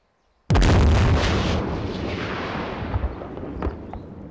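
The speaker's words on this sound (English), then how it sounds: "We're going to detonate. We say stand by for controlled detonation." Controlled explosive detonation in an Arma military video game, a sudden loud blast after brief silence, followed by a long rumbling decay with scattered debris pops.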